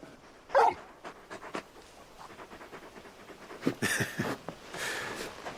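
A large video game dog pants and snuffles close by, with a short whimpering yelp and breathy huffs breaking up the quiet.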